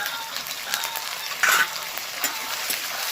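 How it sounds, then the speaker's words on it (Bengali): Chopped medium-large tomatoes frying in a pan with onion give off a steady, close sizzle and crackle, with one brief louder spatter in the middle and no voices. "এবার টমেটোটা ভালো করে একটু ভেজে নেবো।"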